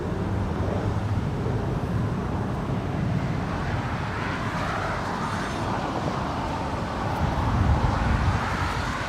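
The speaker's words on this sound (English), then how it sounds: "544 coming in from Orlando, Florida. It's a 737-900ER." A Delta Airlines Boeing 737-900ER arriving at LAX, heard as a steady, broad roar mixed with wind noise that swells slightly toward the end.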